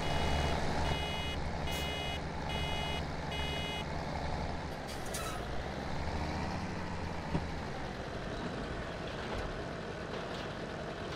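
A tractor-trailer's reversing alarm beeping in the Farming Simulator 17 farm game, steady repeating tones in groups over a loud diesel engine drone and a brief air brake hiss partway through.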